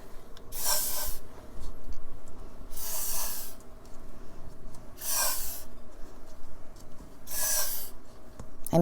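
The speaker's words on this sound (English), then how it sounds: "I'm going to use the WD-40 silicone spray" WD-40 silicone spray misted into 9-ounce plastic cups in four separate short hissing bursts, evenly spaced, over a faint room background.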